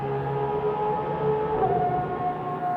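An Aston Martin Valkyrie AMR Pro engine revs hard inside an F1 wind tunnel, a loud sustained high-pitched wail that holds steady and then climbs slightly in pitch, with no voices over it.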